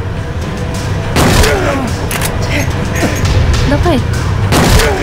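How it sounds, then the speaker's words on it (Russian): Gunfire rings out in the horror video game Silent Hill 2 as a handful of sharp, booming shots spaced about a second apart, loud over a dense, noisy game soundscape, while players talk throughout. "Сколько ему нужно выстрелов?"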